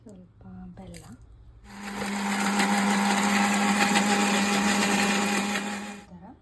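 A mixer grinder jar whirs loudly for about four seconds, blending peanuts, green chillies, salt, cumin, tamarind, jaggery and a little water into shenga chutney, rising abruptly after brief kitchen sounds and cutting off near the end.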